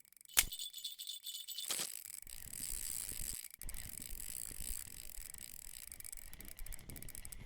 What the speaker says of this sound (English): be sure to lower your friction brake down.